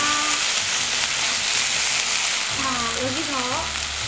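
Kimchi stew ingredients are stirred in a pot over a loud, constant frying hiss, with a faint voice speaking underneath toward the end.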